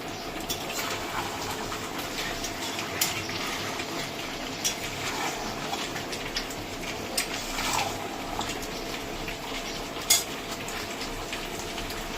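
Meat frying in a pan over a steady close sizzle, with occasional utensil clinks and stirring scrapes rising through the constant hiss.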